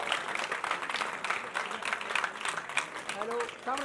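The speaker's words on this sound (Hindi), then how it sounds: "बच्चों तालियां बजाओ" Children clap together at a school teacher's retirement programme, a brisk scattered patter of many small hands that fills the moment, with a voice speaking over it.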